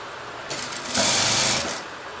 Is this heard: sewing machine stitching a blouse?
yes